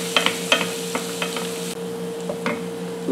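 Steady frying sizzle of chicken and onions with a spoon scraping and clicking against the pan several times, close by, no talking.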